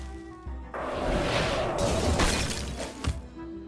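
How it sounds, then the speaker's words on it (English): Hearthstone's Blizzard mage spell lands as a loud, sustained icy crash and shatter, a rushing whoosh that swells for a few seconds and ends in a sharp final crack amid game effects. "And there is the blizzard."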